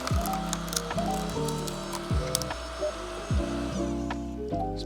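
A VEVOR 6.5-ton electric log splitter works through a roughly six-inch baby ash log, its motor giving a rising mechanical whine that repeatedly drops and restarts in a rhythmic cycle, with occasional creaks and cracks close by.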